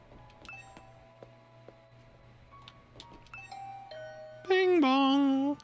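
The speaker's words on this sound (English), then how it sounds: "I rang the doorbell and could hear the bell ring on the other side of the door." A bright electronic two-tone doorbell chime rings out loudly near the end in the game The Hundred Line, following soft scattered game tones and a steady low hum.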